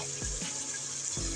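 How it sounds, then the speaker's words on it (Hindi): Water poured into a cooking pot for chicken pulao, heard as a couple of short splashing gushes of liquid close by, with no talk. "इसमें मैं ऐड करूँगी थोड़ा सा पानी"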